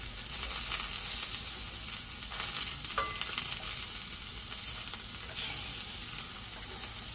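Thin slices of bologna fry in a cast iron skillet, a continuous crackling sizzle with a few sharper pops and scraping stirs, heard up close and alone.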